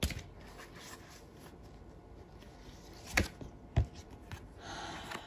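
Oracle cards are shuffled and drawn with a soft, steady rustle, broken by two sharp slaps of cards laid down near the end. The sound is close and quiet, and no one speaks.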